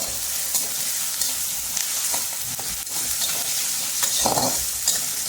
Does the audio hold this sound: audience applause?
no